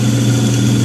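A failing furnace blower motor runs loudly with a steady low hum and drone, constant and close, with no talk over it.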